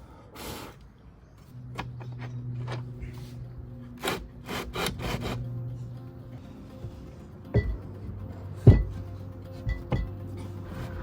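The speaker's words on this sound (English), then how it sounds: "So I'm going to set up my miter saw to that angle and just cut that on every single one of them." Miter saw cutting roof timber at an angle during shed building, heard as brief bursts of blade noise and knocks within an otherwise quiet workshop, with several sharp impacts and a low steady hum running underneath.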